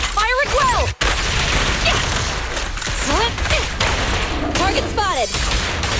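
Sustained bursts of gunfire and combat effects from the video game Zenless Zone Zero, loud and continuous with a sharp crack near the start, while voices speak over the action.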